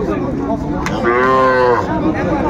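A cow or calf at the Ambari cattle market in Dinajpur gives one long, clear moo in the middle, over a dense background of crowd chatter and market noise.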